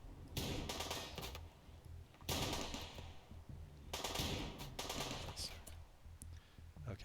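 Bursts of rapid automatic gunfire from the Vikings of Carpathia video game come in three loud sustained volleys separated by short pauses, with a voice talking underneath.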